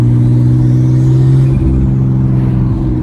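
Turbo-converted Nissan R34 Skyline sedan engine runs steadily, a loud, close, low droning hum with a slight shift in pitch partway through, no voices.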